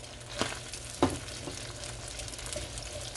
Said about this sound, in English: Let's get these onions cooking.